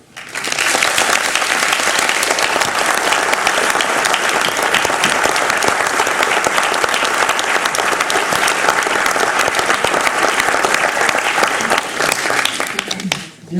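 Sustained applause from an audience at a 50th anniversary celebration of the INSA Lyon computer science department, steady and dense for about thirteen seconds before tapering off at the end.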